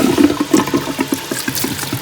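Water pours and splashes over boiled cauliflower being rinsed to cool it, a loud close gushing with rapid bubbly spatters, steady for a couple of seconds.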